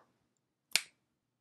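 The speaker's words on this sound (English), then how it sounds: "I'm going to snap my fingers" A single crisp finger snap rings out sharply and close, standing alone against near silence with a quick decay.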